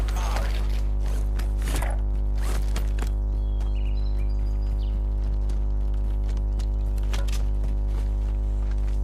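Weapon reload in a video game: a few close mechanical clicks and sliding clacks in the first seconds, then quieter scattered ticks over a steady low electrical hum.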